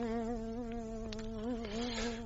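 Buzzing housefly in a French radio drama, a steady close drone with slight wavering pitch, alone without talk.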